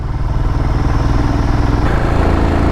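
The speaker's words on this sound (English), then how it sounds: "Just trying to squeeze that throttle on to make the most out of this 411cc Royal Enfield Himalayan engine." A 411cc Royal Enfield Himalayan motorcycle engine labours up a steep hill, a loud, close, steady pulsing thump with a rhythmic low throb that deepens slightly near the end as the load changes.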